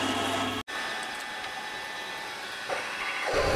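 Lathe drilling a 12 mm hole right through a metal part for a chainsaw-powered longtail boat build: a steady machine hum with one brief dropout early on, then a rising, louder whine toward the end.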